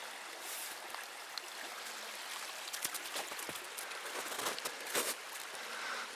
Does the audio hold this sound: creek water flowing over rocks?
yes